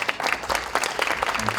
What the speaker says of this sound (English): A huge round of applause for our awesome panelists.